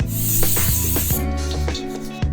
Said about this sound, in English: I've got this coconut oil cooking spray.